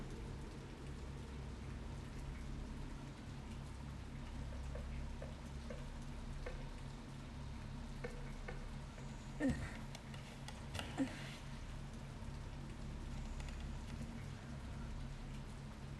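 Steady rain in a horror video game patters softly and continuously at night, with a few faint ticks and brief louder taps, quiet and distant throughout.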